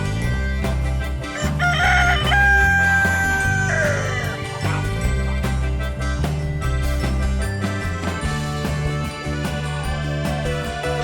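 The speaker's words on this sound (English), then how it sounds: "Rooster." A farm rooster crows once, a drawn-out call early on, over steady loud background music that continues throughout.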